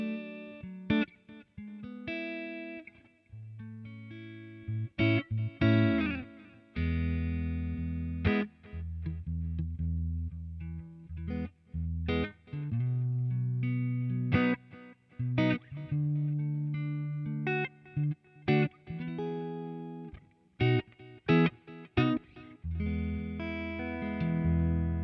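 Clean electric guitar through a Boss Katana Mk II amplifier on a clean channel with delay, played alone as a run of plucked chords and single notes with ringing repeats and short pauses between phrases.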